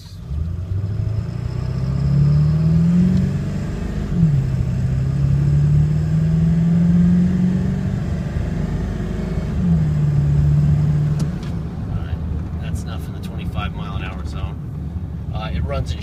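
A 2001 Ford F350 diesel 4x4 truck runs with a steady low engine drone, pitch rising and falling as it shifts through gears, then settles into a quieter idle near the end.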